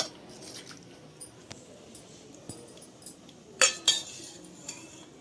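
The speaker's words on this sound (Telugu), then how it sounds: "కొద్దిగా తాలింపు వేసిన తర్వాత చక్కగా ఒక్కసారి ఇలాగా కలిపేద్దాము." A spoon stirs radish dal just after tempering is added, giving sparse faint clinks against the pot with two louder knocks near the end, all without talk.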